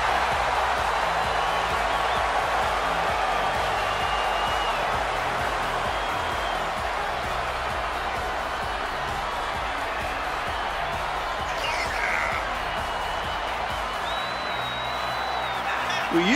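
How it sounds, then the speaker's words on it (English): Dense arena crowd noise from a WWE 2K24 women's championship match, a steady continuous roar of cheering with faint whoops rising through it, loud and sustained throughout without clear speech on top. "Listen to that crowd!"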